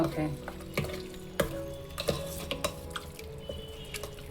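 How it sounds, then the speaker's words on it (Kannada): Hot water poured into wheat flour batter while it is stirred, with sharp spoon-on-vessel knocks and scraping over a low background hum, close and steady, no voices. "ಇಲ್ಲಿ ನಾನು ಎರಡು ಗ್ಲಾಸ್ ಅಷ್ಟು ಬಿಸಿ ನೀರನ್ನ ಹಾಕೊಂಡಿದ್ದೀನಿ"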